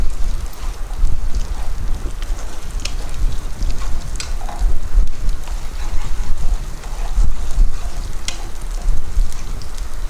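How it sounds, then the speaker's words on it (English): Curry paste for Khao Soi frying in a hot pan, a steady loud sizzle and crackle with occasional stirring scrapes throughout, no voices. "So that you want to fry until aroma come out and the color come out."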